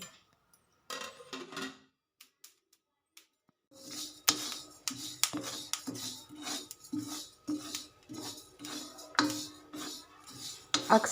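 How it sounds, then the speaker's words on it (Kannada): Flax seeds crackle and splutter in a hot pan, a quiet opening giving way to irregular sharp pops and ticks over a faint sizzle, close and fairly busy toward the end. "ಕಾಳು ಚಟಪಟ ಅಂತ ಸಿಡಿದ ಮೇಲೆ ಆಫ್ ಮಾಡ್ಕೊಳ್ತೀನಿ"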